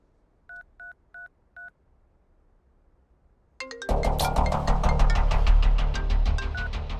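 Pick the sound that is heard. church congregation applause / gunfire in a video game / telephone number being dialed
telephone number being dialed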